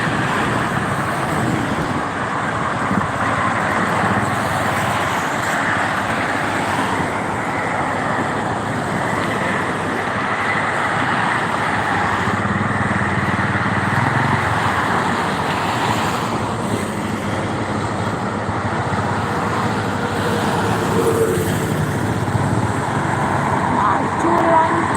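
Steady roar of private cars on the Jakarta-Cikampek toll road on a Sunday afternoon: continuous tire and engine noise from passing traffic, loud and unbroken, with wind and a passing heavier vehicle now and then.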